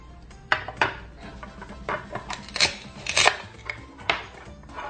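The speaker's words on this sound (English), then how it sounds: "We get a cutting board and a knife to cut the fruit." A knife slices through a toy velcro apple on a cutting board, giving a series of crisp, close chopping knocks and scrapes at an uneven rhythm, with no voices.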